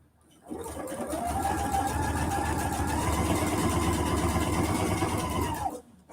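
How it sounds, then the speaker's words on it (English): A sewing machine runs a steady straight stitch at a 2.5 length with a 1/4 inch seam while making a quilted fall market bag, a close, continuous mechanical whir that starts up, holds even for about five seconds, then stops. "I turned my machine on and chose a regular straight stitch"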